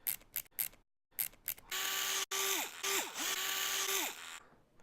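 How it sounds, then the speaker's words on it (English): Narrow screwdriver turning out screws on the base of a Sonos Play speaker, heard as short clicks and then a steady close mechanical whirring with rising and falling tones, as from an electric screwdriver. "I used a narrow screwdriver just to get in there and undo the screws."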